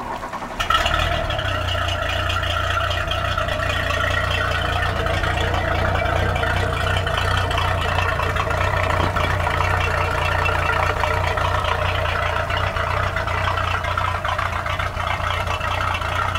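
A Yamaha sterndrive boat engine cranks and catches, then settles into a steady, loud, even idle with a low rumbling drone and mechanical clatter, with no talk over it.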